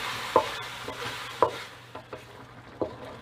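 Pork is stir-fried in a pan with a spatula, giving soft frying hiss under a few sharp scraping and clanking strokes at uneven intervals, close by.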